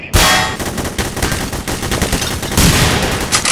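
Rapid, sustained automatic gunfire from the multiplayer shooter game The Hidden, a loud, dense burst of shots running almost without pause, swelling again near the end, with no talk over it.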